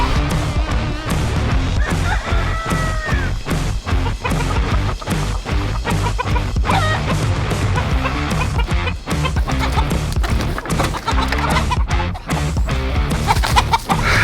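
Four roosters crowded in a coop, their calls and clucks dense and loud, with a busy, cluttered backdrop running the whole time.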